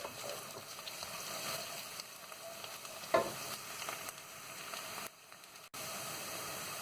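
Onion frying in a pan for aloo gobi, a steady, even sizzle close by with a brief stirring clatter midway, cutting out briefly near the end before resuming.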